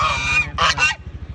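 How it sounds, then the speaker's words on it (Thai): A goose honks loudly nearby, a couple of harsh nasal calls, with a soft rhythmic putter of a small engine running underneath. "นี่ห่าน"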